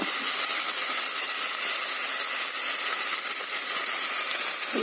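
Onions sautéing in a generous amount of oil in a pan while eggplant gothsu is being made, giving a steady, loud, close sizzling hiss throughout with no talking.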